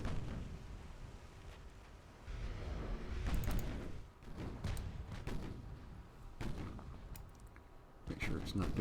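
Battleship naval guns fire broadsides in Ultimate Admiral: Dreadnoughts, USS South Dakota of 1920, heavy booming blasts rolling out in irregular bursts with rumbling decay, some louder and closer, a voice occasionally speaking over them.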